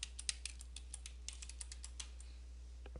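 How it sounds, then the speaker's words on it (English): Faint keystrokes tapped out on a computer keyboard, an irregular run of light clicks spread across a few seconds over a steady low hum, with no voices. "I'm going to type"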